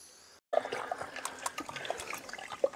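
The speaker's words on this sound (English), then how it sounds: "This is the issue with it, it drips slightly." Water dripping from a leaking central heating system during a system flush at a combi boiler installation: a continuous close trickle with small distinct drips after a brief quiet start, no speech.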